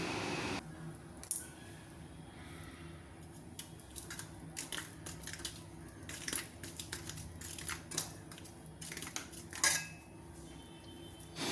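Ragi flour and salt being mixed by hand in a bowl, with a steady run of close scraping, rubbing and clinking against the bowl, broken by sharper knocks every few seconds.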